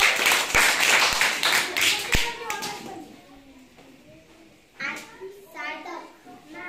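Children clap their hands in a quick burst of sharp claps at a group game, followed by quieter moments with children's voices talking.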